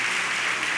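Church audience at a special service for home groups applauding, a short, dense wash of clapping that fills the moment steadily without letup.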